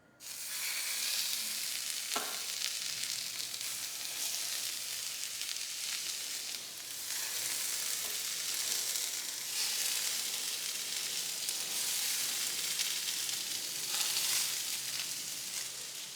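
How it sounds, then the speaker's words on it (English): Dried lampuki fish sears in a very hot pan without oil, giving a dense, continuous hiss with occasional soft crackles, close and steady throughout. "I cook the fish without oil. Important that you heat the pan very good and the fish should be dried."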